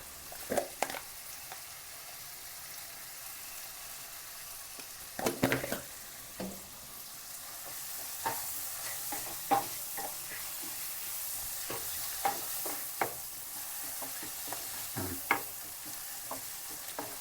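Onion, green chilli and tomato sizzle steadily in hot oil for a poha dish, with sharp spatula scrapes and clicks as the pan is stirred. A low, even frying hiss runs alone throughout.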